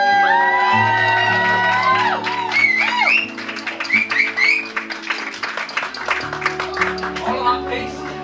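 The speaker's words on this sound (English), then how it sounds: "Here we go for a round of applause." A wedding crowd at Oldberrow House claps and cheers, with whoops and excited voices rising over music that fades out partway through.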